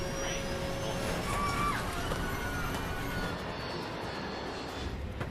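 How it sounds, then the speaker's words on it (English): An aircraft going down over Queens gives off a loud, continuous engine roar that holds steady and then eases slightly near the end. A voice is faintly audible beneath it. "There's an aircraft crashing."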